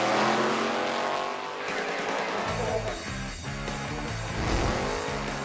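A drag racing car at the Emirates Motorplex burns rubber, its engine revving hard with screeching, roaring tire noise that swells and dips, loud and close.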